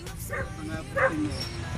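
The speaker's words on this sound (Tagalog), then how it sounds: "Ayun yung aso" A dog at a house barks in a few short yips and a whimper, fairly close, with a person's voice talking in the background between them.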